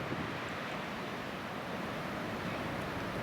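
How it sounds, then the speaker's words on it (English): Sea waves crash below coastal cliffs, a dense continuous roar of surf heard from above, mixed with wind rushing across the microphone, steady throughout with no voices. "as you can see from those crashing waves down there"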